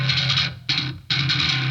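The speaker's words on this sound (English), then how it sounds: "if we actually do a little bit of a boost around the 550 mark, it's going to sound like this." Bass guitar with an EQ boost around 550 Hz giving a throaty midrange tone; two sustained notes separated by a short gap, played alone, close and clear.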